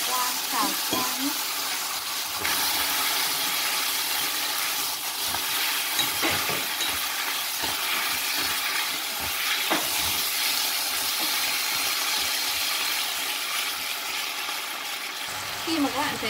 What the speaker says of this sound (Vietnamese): các bạn sẽ cho cái phần thịt vào, các bạn đảo qua, xào qua nhé